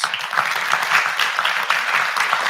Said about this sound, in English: Let's give Scott a round of applause.